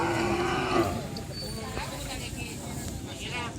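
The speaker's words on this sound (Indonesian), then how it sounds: "Ini banyak sapi-sapi baru guys." Cattle at a Karapan Sapi bull race practice ground in Pamekasan give a low drawn-out moo at the start, followed by outdoor crowd murmur and people talking in the background.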